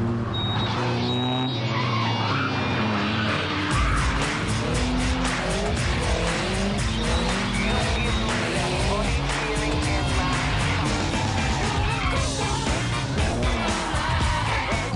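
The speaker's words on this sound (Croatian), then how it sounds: "Znate li što je to driftanje, šrekanje, vožnja po boku?" Cars drifting on a racetrack during a drift day event in Mičevec, Croatia, with loud revving engines and long squealing tyres sliding through corners, a continuous roar heard from close by.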